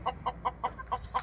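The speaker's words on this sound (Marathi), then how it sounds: "हे बघा खूप साऱ्या कोंबड्या आहे आमच्याकडे" A flock of chickens kept at a home clucks in a steady, even series of six short calls, close and moderately loud.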